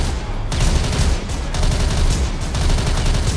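Bursts of gunfire from National Guard troops shooting blindly in an audio drama scene, a rapid, continuous crackle of many shots that is loud and close with brief gaps between volleys.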